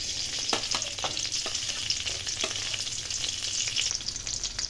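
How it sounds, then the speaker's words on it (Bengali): Chopped garlic and green chilli fry in hot oil in a wok, a continuous close sizzle broken by soft scraping stir strokes, with no voices. "এবার কড়াইয়ে তেল দিয়ে নিলাম। এবার এর মধ্যে দিয়ে দেবো রসুন কুচি আর কাঁচা লঙ্কা কুচি।"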